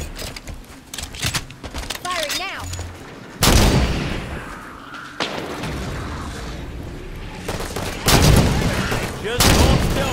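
Rapid gunfire bursts and heavy booming blasts from a Halo 5: Guardians firefight against Prometheans, loud and close, with several sharp volleys and explosions cutting through game voices and background effects.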